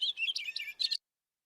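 A songbird sings a rapid, high, chirping phrase of several quick notes for about a second, close and clear, then the song stops and silence follows.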